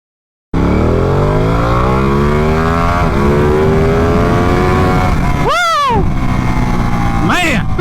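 A Ducati Panigale motorcycle in sport mode accelerates hard with a loud, close engine roar that climbs steadily in pitch, then dips sharply at gear shifts before revving up again.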